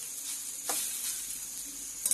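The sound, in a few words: stirring wild prickly lettuce greens sizzling in a pan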